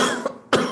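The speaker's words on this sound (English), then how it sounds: "That sounds like a bit of a nasty cough going on there." A single harsh cough from a patient at a GP practice, close and loud, then a short pause and a second rough cough burst, no talk.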